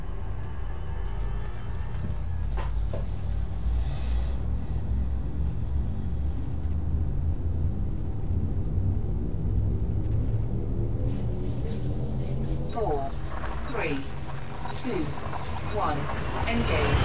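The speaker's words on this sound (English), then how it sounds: "Frameshift drive charging." Frame shift drive charging in the space game Elite Dangerous: a steady low rumbling hum with rising tonal sweeps building toward the end, a synthetic ship voice speaking over it.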